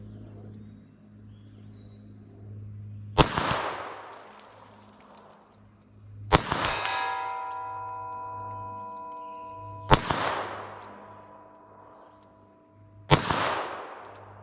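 Four loud gunshots from .22 LR and .32 S&W Long pocket pistols crack out a few seconds apart, each with a sharp report and a decaying echo. A faint steady hum lies underneath.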